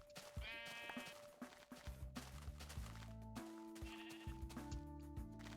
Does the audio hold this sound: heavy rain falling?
no